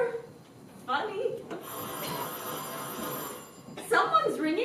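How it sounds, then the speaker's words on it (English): An old-fashioned doorbell rings in a long steady peal in a domestic interior, heard between and under stage-style dialogue from several voices. "Someone's ringing."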